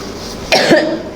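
A single close, loud cough bursts out after a moment of quiet room tone, with no talking in between.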